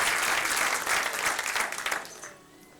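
A church congregation applauds steadily for a couple of seconds, the clapping dense and loud before tapering off near the end.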